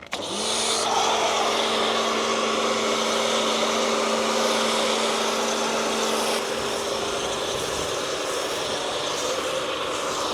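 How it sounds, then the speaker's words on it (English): A snow foam lance sprays thick foam onto an Alfa Romeo GTV during a wash, producing a loud, continuous hissing roar with a steady pump whine that starts abruptly and holds throughout. "now I've got some of this extreme snow foam in this lance"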